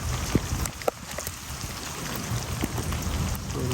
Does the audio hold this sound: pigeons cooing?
no